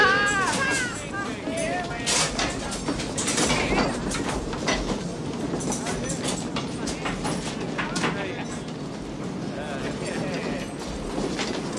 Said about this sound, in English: Now don't you even think about getting off this train, Mokos.